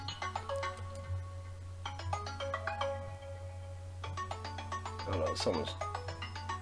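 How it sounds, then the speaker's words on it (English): A phone ringtone plays in repeated melodic bursts, with a few seconds of quiet between rings, at moderate distance beneath a steady low hum, while a person speaks briefly over it. "that's my phone ringing, if you can hear it"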